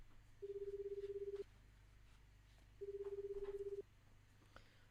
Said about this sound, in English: The phone rang several times.